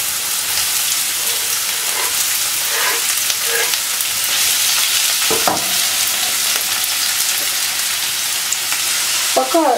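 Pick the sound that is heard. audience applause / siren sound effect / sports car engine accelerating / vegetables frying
vegetables frying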